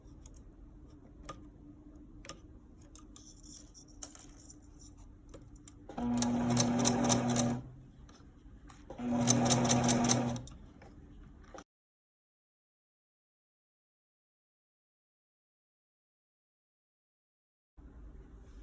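Sewing machine stitching a sheer kimono jacket collar, two loud buzzing runs of a few seconds each separated by a pause and light clicks, followed by long silence.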